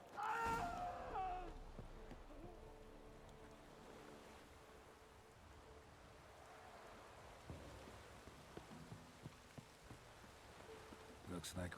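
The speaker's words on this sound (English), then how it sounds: "Looks like rain." Rain falls steadily in The Witcher 3 game world, a soft, even wash of patter with a few brief heavier spatters, heard alone.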